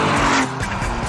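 A Lamborghini Miura driven hard, its engine roaring loud and close while the tyres squeal and skid across the whole short burst, with no voices.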